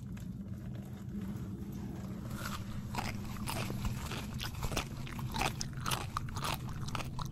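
Crunchy bites and chewing on a Taco Bell taco, close up, with repeated crisp crackles over a steady low background hum and no talking.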